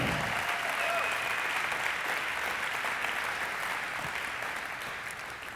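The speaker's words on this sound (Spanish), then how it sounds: "Vamos a darle un aplauso a Dios." A church congregation claps in sustained, full applause that fills the room and slowly tapers off toward the end.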